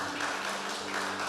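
A church congregation claps together in a short, dense burst of applause, moderately loud and without voices.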